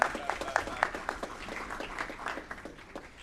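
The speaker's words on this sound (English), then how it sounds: "Ladies and gentlemen, keep the applause going for Anna Pace" A council meeting audience claps for an honoree, producing loose, moderately distant applause with sharp individual claps that slowly thin out over a few seconds.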